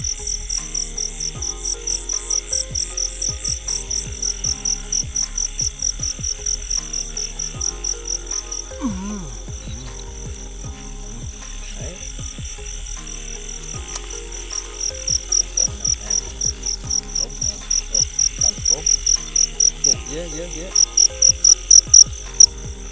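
Crickets chirp in a rural Vietnamese field after rain, a dense shrill pulsing trill that runs throughout, swelling into louder rhythmic bursts near the end, with soft low thumps and faint rustling beneath.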